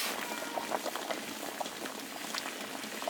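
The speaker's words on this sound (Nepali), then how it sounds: "ल उम्लिरहेछ भनेर" Water boils steadily in a pot for ramen noodles, a constant close bubbling hiss with small pops and gurgles throughout, no voices.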